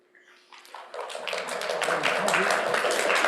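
An audience at a Parks and Recreation commission meeting breaks into applause that starts with a few scattered claps and swells into steady, dense clapping from many people, fairly close and loud, with a faint tone and murmur at the start.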